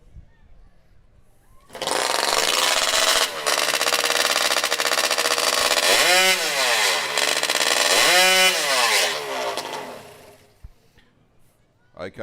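A racing chainsaw built from a snowmobile engine screams loudly as it warms up at a timbersports championship, holding a harsh high whine with repeated revving swells before cutting off, as a voice talks over it.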